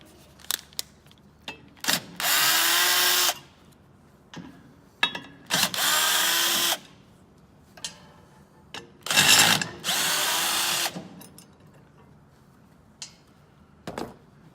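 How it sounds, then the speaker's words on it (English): A power drill backs out three screws holding the axle of a UL200 bypass baffle mechanism during a repair, in three loud sustained whirring bursts of about a second each, separated by quieter clicks and handling noises. "we'll undo these 3 screws holding the rod or the axle"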